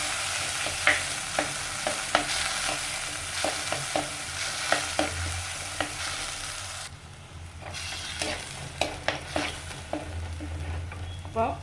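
Masala paste for a kudampuli fish curry frying in a pan, a steady loud sizzle broken by repeated scraping spoon strokes as it is stirred, with the sizzle briefly dropping then returning.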